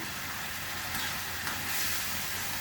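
Prawns hitting a hot pan give off a steady, broadband sizzle of frying that runs continuously and evenly at close range, with no voices over it.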